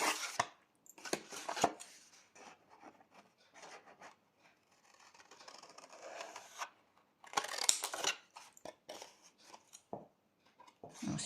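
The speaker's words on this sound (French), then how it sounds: "On coupe les pattes avec le même procédé, c'est-à-dire on ne va pas à l'intersection, on coupe avant" Scissors snipping the tabs of a handmade cardboard craft box, a run of short, crisp cuts and rasping scrapes in quick irregular bursts, close and clear, with quiet gaps between strokes.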